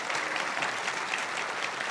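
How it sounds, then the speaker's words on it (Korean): A church congregation in Bucheon applauds a visiting city mayor and his wife during a Sunday service, giving steady, dense clapping that fills the hall evenly from start to finish with no voices over it. "잠깐 일어나 우리 박수하겠습니다"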